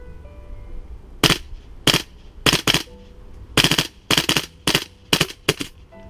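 A Tokyo Marui M4 MWS gas blowback airsoft rifle fires on a warm standard magazine, sharp mechanical bursts of several rapid shots each, separated by short pauses, loud and close with no voices.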